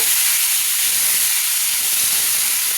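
Pointed gourds hit a hot pan already holding poppy seeds and black cumin, setting off a loud, continuous sizzle and hiss that fills the whole moment close up without any talk.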